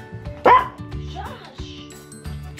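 Dog barks erupt during a subscription dog-treat box unboxing, one sharp loud bark near the start followed by softer yips and whines scattered through the rest, with voices talking underneath.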